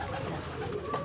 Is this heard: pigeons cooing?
yes